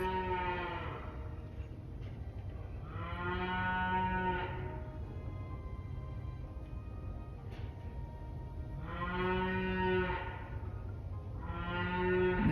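Cows moo in long, drawn-out calls in a snowy barnyard, several of them in two clusters with a pause between, fairly close over a steady low rumble of barn noise.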